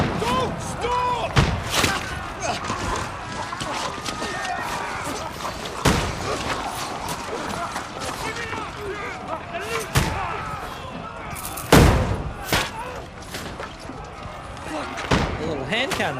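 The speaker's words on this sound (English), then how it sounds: "The little hand cannons." Medieval hand cannons fire during a castle battle in the video game Kingdom Come Deliverance, several sharp booming reports at irregular intervals amid clashing combat noise, with voices shouting over the fighting.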